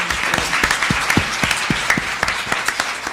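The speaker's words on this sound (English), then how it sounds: "how about a big round of applause for our host tonight" An audience applauds their host, the University of Oregon, at a live panel discussion. The clapping is loud, steady and sustained throughout, with sharp individual claps standing out from the dense crowd noise.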